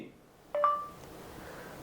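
A short Google voice assistant activation chime sounds once on a phone tap after a brief pause in a quiet room, two clean tones ringing out and fading quickly.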